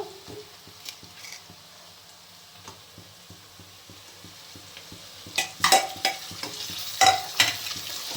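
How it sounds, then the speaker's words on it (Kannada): Chicken frying with tomatoes in a pan, with a steady sizzle underneath and a series of clinks and scrapes from stirring. The scrapes come faster and louder toward the end, and no one speaks. "ಇವಾಗ ಟಮಾಟೆನ ಹಾಕ್ಕೊಂಡು ಅದು ಸ್ವಲ್ಪ ಫ್ರೈ ಆಗಲಿ."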